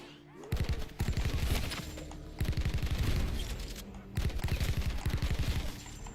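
Rapid automatic gunfire from a weapon in Black Ops 4 Zombies, fired in three long sustained bursts separated by brief pauses, loud and close with dense mechanical rattle.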